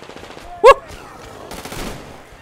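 A single sharp shotgun blast rings out in Metro Exodus gameplay, followed by fainter scattered gunfire and rumbling noise that gradually fades.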